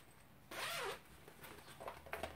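A zipper on a vinyl stitching project bag is pulled once in a quick, loud rasp, followed by softer rustling and handling sounds close up.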